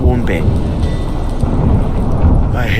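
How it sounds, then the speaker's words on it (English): A thunderstorm aboard a boat in The Witcher 3, with steady heavy rain and deep rolling thunder rumbling throughout, while voices talk over the storm. "Didn't bargain for no storm."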